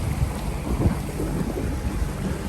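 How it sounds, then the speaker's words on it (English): Thunder from a night lightning storm at sea about 50 miles off the coast of Panama, a low rolling rumble that swells and fades under steady wind and water noise, heard from aboard a small sailing boat. "been watching this lightning storm all night"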